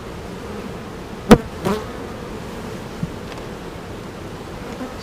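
Honeybees at an active hive holding honey supers, a steady soft buzz under the ambient noise, with one brief sharp knock and a couple of faint clicks.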